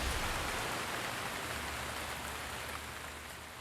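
Steady rain falls in the video game The Legend of Zelda: Breath of the Wild, a soft, even hiss of downpour that fades slightly over a few seconds with no voices.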